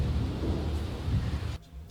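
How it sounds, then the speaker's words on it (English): Thunder from a lightning strike in The Sims, a low, noisy rumble lasting about a second and a half before cutting off abruptly into quiet. "There was another lightning strike."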